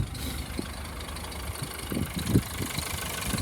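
A car engine idles with a low, steady rumble, a slight auxiliary belt squeak and a few soft knocks and bumps, fairly quiet and without voices.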